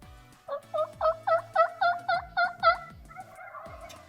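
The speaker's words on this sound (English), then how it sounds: "How many times do you think we've heard them gobble today?" Wild turkeys gobble in a hunting setting in South Dakota's Black Hills: one long, rapid run of about nine loud, warbling pulses, then a softer trailing call. No voices.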